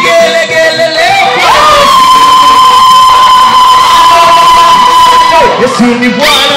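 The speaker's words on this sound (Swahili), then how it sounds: "Wamama vigelegele leo" Women ululating at a church service marking International Women's Day: a loud, sustained high trilling cry from several voices over a cheering crowd, wavering at the start and end.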